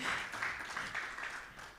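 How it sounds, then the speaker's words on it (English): Audience applause for a speaker at a startup pitch event, a steady, moderately faint wash of clapping that holds evenly for the whole span with no voices over it. "Big round of applause for Petr."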